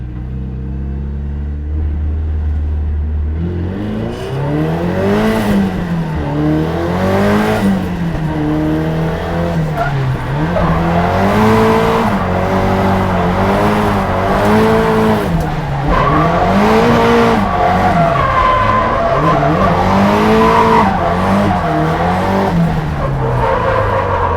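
A 450bhp Nissan 180SX race car pushes hard through a fast lap at a track day, its loud engine note rising and falling steadily as it revs through the gears, with occasional tyre squeal and no talking.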